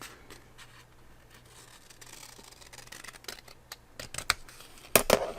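Scissors cutting paper for handmade paper butterflies: faint scattered snips and paper rustles at first, then sharper, louder close cuts bunched near the end.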